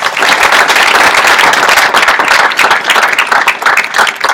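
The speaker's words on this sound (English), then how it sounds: "Let's give them one more round of applause" A loud round of applause at a university honors induction ceremony for natural science and mathematics teachers, a close, dense crowd of clapping hands with sharp individual claps standing out, sustained throughout.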